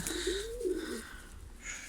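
A Half Sider pigeon gives a single soft, low coo, close by while held in hand, with faint rustling and background noise around it.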